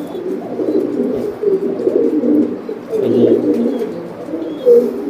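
Domestic pigeons, some nesting on eggs, coo nearby in soft, repeated throaty calls, several overlapping in an uneven rhythm.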